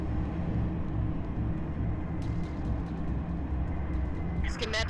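A steady, loud droning hum of a bugged Banshee aircraft stuck inside a wall in the video game Halo: Reach, running continuously, with a few brief higher bursts near the end.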